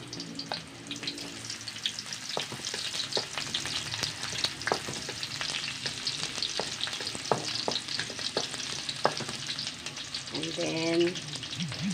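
Onions frying in a pan while cooking egado, a steady loud sizzle with stirring clatter and scraping throughout, no voices.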